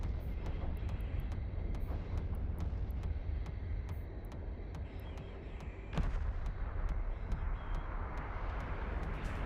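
A space station blown apart in Eve Online, a dense, rumbling blast roar that holds steady throughout, with a sharper burst about two-thirds of the way in over continuous low booming.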